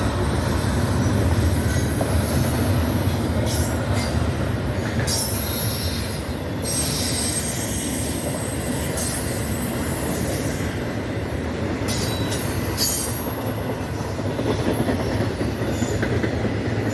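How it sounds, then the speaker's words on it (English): A Norfolk Southern freight train rolls across an old bridge at Haynes Bridge, a loud, continuous rumble of wheels on rails with recurring high squeals and faint clicking of cars, sustained throughout. "Got Norfolk Southern coming through."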